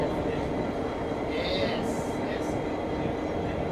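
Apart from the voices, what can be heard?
SSR locomotive train at Strathfield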